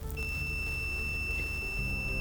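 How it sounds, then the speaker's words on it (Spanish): A multimeter tester emits a steady, continuous high-pitched continuity beep starting just after the onset and holding through the rest of the short stretch, over a low background hum. "Que yo toco las puntas, por ejemplo, de este tester y tiene que hacer un pitido"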